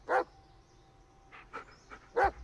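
A dog in the horror video game Blair Witch barks in short sharp yelps with soft whimpers between, a few separate bursts close to the listener with no talk over them.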